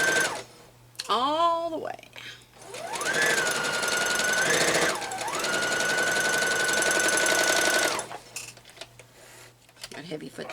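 A sewing machine with a heavy presser foot stitches a full seam on a Hope of Hartford quilt block, its motor whirring steadily for about five seconds. Brief speech comes before and after the run.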